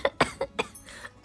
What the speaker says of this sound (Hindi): थोड़ी सी आहो आहो खांसी हो गई है